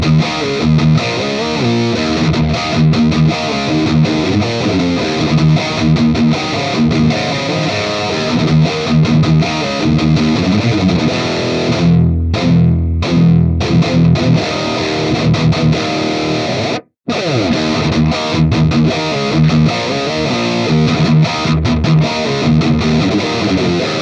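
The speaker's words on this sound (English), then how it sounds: "So again, here's the amp without the pedal and then with it on." A high gain guitar amp plays distorted riffs, first without and then with a drive pedal, loud and continuous with a brief dropout near the end.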